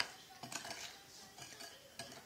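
A spoon stirs Lao mango dipping sauce in a bowl, giving faint scraping and light clinks in a few short strokes, close and quiet.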